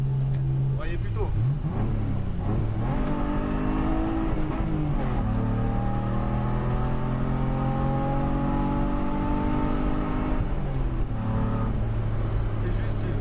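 The six-cylinder engine of a BMW E30 325i revs up and down in repeated rising and falling pulls, loud and close, with a person talking over it.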